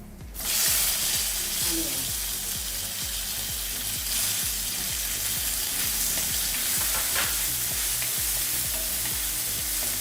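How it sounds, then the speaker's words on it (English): Onion frying in oil with cashews, a steady close sizzle with a constant crackling hiss, over a regular low knocking in the background. "As they splutter and cashew gets color, we will add the onion."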